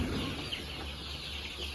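Fast-growing three-breed chickens cluck softly in a farm coop, faint and scattered against a steady background hiss.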